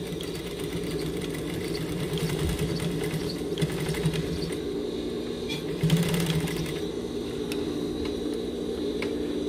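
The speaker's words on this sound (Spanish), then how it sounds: "Y pues nada más cosemos." A sewing machine runs continuously, stitching around a jeans zipper with a fast, steady mechanical whir and rattle that stays close and even throughout.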